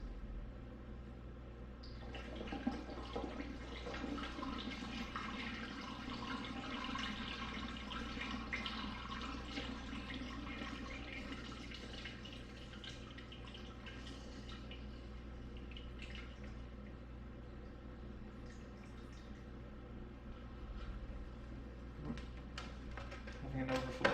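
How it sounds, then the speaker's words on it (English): Water runs steadily into a jug for a batch of dewberry wine, a continuous pouring rush that lasts most of the time, with faint speech now and then. "And now we're going to add water and fill to not quite a gallon."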